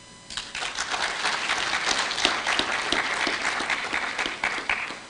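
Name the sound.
audience applause at a launch event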